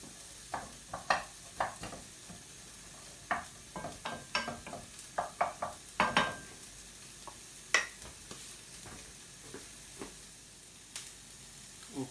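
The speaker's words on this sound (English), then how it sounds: "Brown those off." Onions and beef mince brown in a frying pan with a soft, continuous sizzle under repeated irregular clicks and scrapes of a utensil stirring against the pan.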